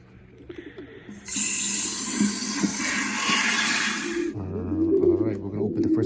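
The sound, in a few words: racing pigeons cooing in a box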